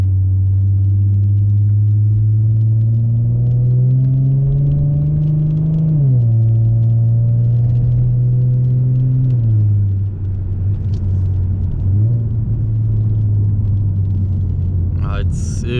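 A 305 hp Ford Mustang 3.7 L V6 drives on a wet road, heard from inside as a deep steady engine drone that rises, drops with a gear change, and then settles into a low cruising rumble.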